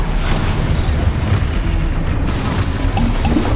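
Spellcasting in a Harry Potter video game, a loud, continuous rumbling boom with low, heavy crashing that holds steady throughout.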